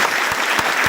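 Students clap in a classroom at a UPSC/BPSC coaching workshop, a steady burst of applause that holds for the whole second at an even, fairly loud level.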